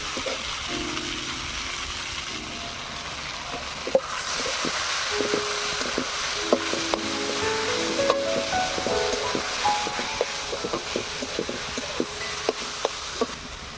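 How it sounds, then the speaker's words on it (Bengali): Boiled greens tipped into onion and garlic already fried red in a pan: steady hissing sizzle with scraping and clattering of a stirring spoon against the pan, close up and with no talk. "পেঁয়াজ রসুনটাকে লাল লাল করে ভেজে নিয়েছি। এবারে দিয়ে দেবো সেদ্ধ করে রাখা শাক।"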